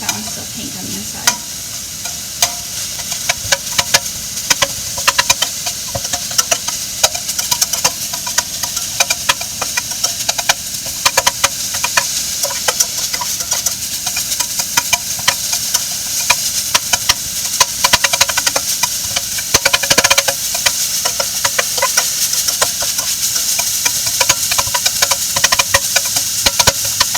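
Ground beef sizzles and crackles steadily in a hot pan while it is broken up with a utensil, a continuous close frying hiss with frequent scraping and stirring clicks throughout, no talking.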